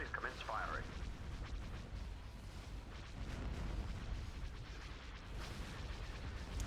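Star Destroyer weapon batteries fire in the Star Wars strategy game Thrawn's Revenge, a dense, continuous barrage of booming blasts and crackling bursts that rolls on without pause for the whole stretch.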